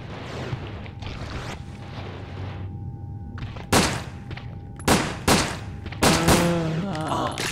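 Gunfire in Resident Evil Dead Aim, a PlayStation 2 game: a run of rapid shots, then several loud separate blasts over game sound, with a voice speaking briefly.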